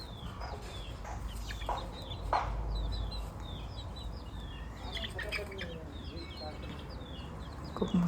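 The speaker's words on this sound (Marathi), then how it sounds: "10-15 कोंबड्या आहेत आमच्याकडे गावी." Hens in a village yard, Kadaknath among them, cluck softly in the distance against a low background rumble, with small birds chirping faintly nearby and a person speaking quietly.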